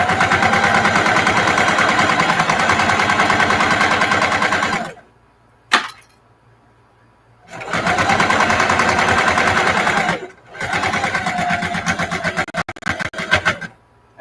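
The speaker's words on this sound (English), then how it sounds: "You should have your sewing machine facing you at all times" A sewing machine stitches a nursing pillow in close, loud bursts of rapid mechanical chatter, stopping and starting several times with short quiet gaps between runs.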